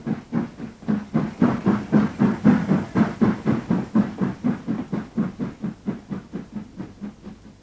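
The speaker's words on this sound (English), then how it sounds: "a flashback to the last steam freight train to use the route" A steam freight train works through the tunnel from Farringdon Station, its exhaust beating in loud, rapid, evenly spaced chuffs that hold a steady rhythm and gradually soften as it pulls away.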